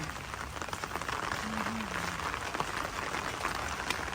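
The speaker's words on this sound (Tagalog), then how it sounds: "Janet, kasalukuyan naman pong rumaragasa ang malakas na ulan." Heavy rain pouring down steadily as a dense, even hiss, fairly faint and constant throughout, with no talking.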